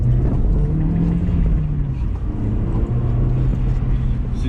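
A 1.8 turbo MK4 Volkswagen Golf GTI fitted with an oversized turbo inlet pipe drives on a test run, its engine droning loud and steady from inside the cabin with a low hum and slight pitch shifts.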